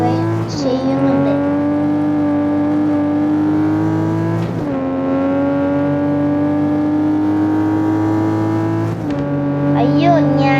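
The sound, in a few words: super car driven in a racing video game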